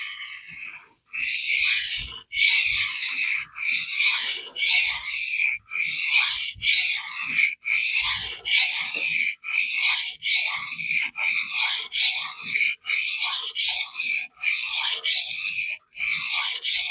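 A Kizer AEB-L steel knife blade is stroked across a 400/1000 grit vitrified diamond stone, giving a steady run of about fifteen rhythmic, close, loud rasping scrapes with brief pauses between strokes and no talk.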